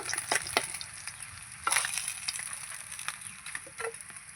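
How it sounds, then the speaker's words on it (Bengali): Fried fish being lifted out of sizzling oil, with a constant close hiss of frying broken by scattered clicks and scraping knocks of a utensil, no voices. "এই মাছগুলো ভাজা হয়ে গেছে এবার আমি তুলে নেব"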